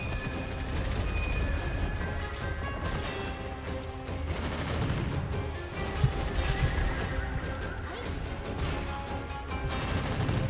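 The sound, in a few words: gunfire shooting eyeballs in Gunfire Reborn video game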